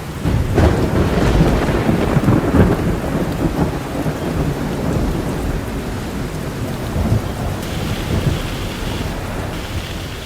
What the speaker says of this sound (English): The rain seemed louder still.